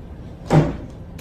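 A door is pulled shut with one close, fairly loud thud and a short rumble, followed by a faint click.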